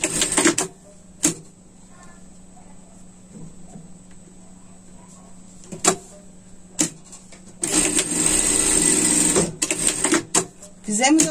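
A sewing machine hems the small pockets of a pet sling bag, with a few quick stitching bursts and one longer run near the end, close by, while someone talks between them.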